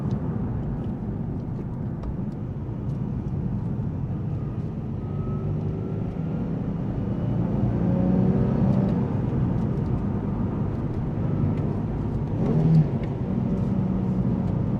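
A 2003 Nissan 350Z Track Edition engine heard from inside the car, a steady loud drone that swells slightly as the throttle is overdone while driving with a manual clutch.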